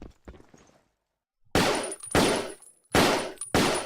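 Rifle shots ring out loud and close in the war video game Battlefield Yugoslavia: a few faint pops, a short silence, then four heavy, evenly spaced blasts, each with a brief echoing tail.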